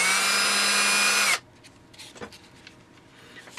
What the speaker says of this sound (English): before you start pulling the trigger on your drill